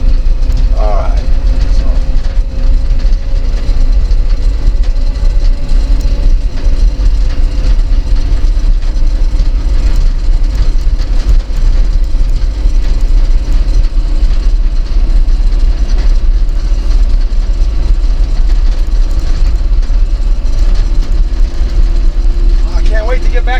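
A truck engine droning steadily in second gear in two-wheel high, a loud continuous low rumble with constant road and cab noise throughout, and someone talking over it now and then.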